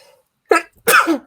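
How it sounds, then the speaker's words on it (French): A single close sneeze from an adult indoors: a short sharp intake burst, a brief pause, then a louder explosive release that trails off, with no talking. "Attendez, je vais éternuer."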